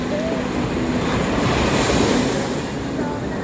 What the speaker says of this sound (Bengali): ঠান্ডা বাতাস, সমুদ্রের গর্জন,